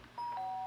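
A two-tone ding-dong doorbell chime from the video game Danganronpa rings once, clear and fairly loud, its tones sustaining to the end with no voice over it.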